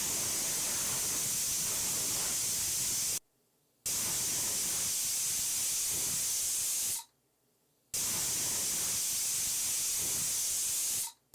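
A pressure cooker boiling chickpeas vents steam in three loud, sustained hissing bursts, each lasting a few seconds and separated by brief silent gaps.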